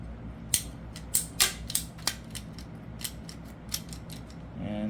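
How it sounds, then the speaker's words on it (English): A PVC pipe cutter ratchets down through pipe during a plaster-wall ceiling fan install, a series of sharp snapping clicks in an uneven rhythm, close and clear against a quiet room. "this is kind of like a PVC pipe cutter, and we have to trim another 1/4 inch off."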